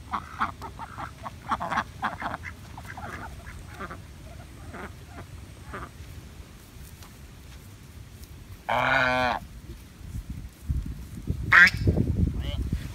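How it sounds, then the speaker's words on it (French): Ducks on the Pangalanes canal in Madagascar give a loud, close burst of quacking and another short call later, between stretches of people chatting in French and boat background noise. "Il y a des canards là, Lan?"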